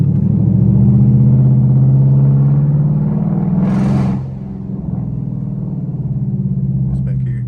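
Mustang GT with an X-pipe exhaust and no headers driving through a city at night, a loud low engine drone that swells, dips sharply, then settles into a steady rumble, with someone talking over it.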